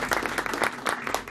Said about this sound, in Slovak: poprosím malý potlesk